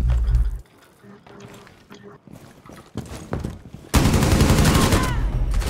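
A heavy machine gun fires in Rainbow Six Siege, first in scattered bursts and then as a loud, continuous stream of rapid shots in the closing seconds, with voices heard earlier.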